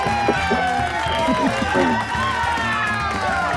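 Studio audience applauding, whooping and cheering for a guest guitarist on a talk show, a steady dense wash of clapping and shouts throughout.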